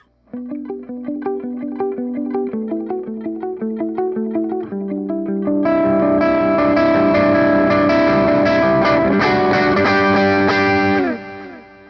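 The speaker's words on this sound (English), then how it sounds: "we're going to use the T-Drive as a very low gain overdrive just to boost it a little bit" An electric guitar with mild overdrive from a Vertex T-Drive pedal set as a low-gain boost picks a plucky arpeggiated line, then swells into fuller, sustained crunchy chords before cutting off.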